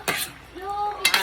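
Cabbage stalks are stirred in a cooking pan with a utensil. Two short scraping clinks frame a brief ringing metallic tone, all close and alone without talk.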